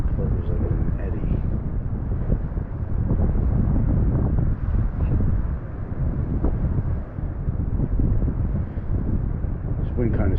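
Strong, steady wind buffets the microphone on an eastern Long Island beach during surf fishing for striped bass, a loud continuous roar with gusty swells, and someone talks intermittently over it.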